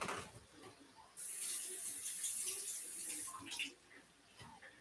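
Tap water runs strongly into a sink as large potatoes are rinsed, a steady loud hiss lasting a couple of seconds before easing off, with quieter clinks and handling noises around it.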